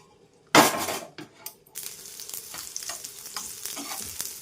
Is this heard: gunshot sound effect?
no